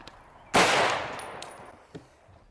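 A single loud, close gunshot from an ArmaLite AR-10 rifle firing .308 rounds at an outdoor ranch. It rings out sharply and decays over about a second, followed by a faint, brief metallic knock.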